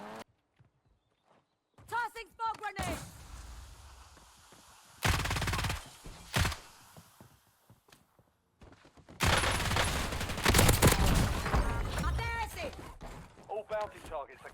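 Scattered bursts of gunfire in Warzone, some rapid and others single shots, separated by quieter gaps with occasional voices.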